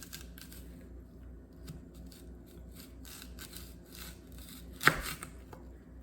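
A knife cuts an apple in half on a board: faint, close taps and soft slicing scrapes come at an uneven pace, followed by one sharp, louder knock as the blade hits the board near the end.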